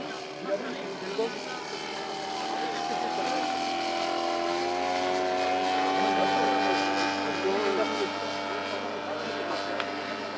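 An MS Rallye model aircraft with flaps extended flies past, its engine drone swelling and fading steadily over about ten seconds at moderate distance, partly blended with background voices.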